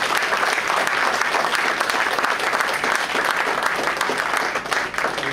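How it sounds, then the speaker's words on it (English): Congregation in a church service clapping their hands together for the Lord, a dense, steady burst of applause sustained loudly throughout with no voices over it. "Give the Lord a hand clap for that."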